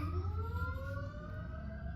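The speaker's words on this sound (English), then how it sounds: "I don't know why there's sirens like randomly" Several sirens wail at once, their pitches sliding slowly downward in long sweeping tones over a steady low rumble, with no talking.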